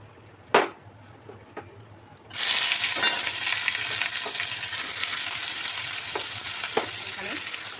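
Chopped onion frying in a pan of oil tempered with cumin, bay leaf and dried red chilli for a mutton-fat ghugni, a steady loud sizzle that jumps up after a quiet start with a couple of clinks, stirring scrapes and pops throughout.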